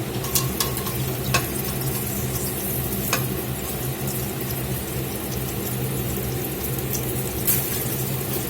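A second batch of steaks browning in a pan for steak pizzaiola, with a dense continuous sizzle and occasional sharp pops and utensil clicks, close and alone without talk.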